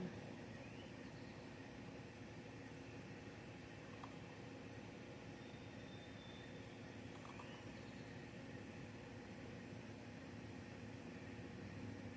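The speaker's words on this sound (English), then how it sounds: "That noise is the air conditioner's on." A home air conditioner hums steadily, a constant broadband whir that stays faint and unchanging throughout with no talking.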